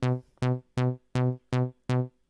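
Six evenly spaced, buzzy bass notes play from a Korg Volca Bass synthesizer with a single oscillator active, each short and punchy with a sharp attack and clean gaps between them.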